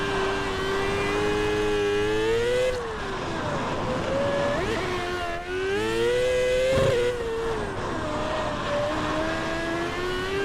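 A micro sprint car engine in iRacing drones loudly and continuously, its pitch rising and falling with throttle changes and dipping briefly twice, close and steady throughout.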